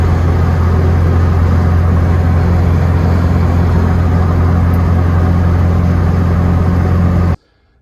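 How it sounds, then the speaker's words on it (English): A Porsche 944 cruising at freeway speed gives a steady, loud low engine and road drone that holds evenly for about seven seconds, then cuts off abruptly. "Drives pretty smooth at freeway speeds."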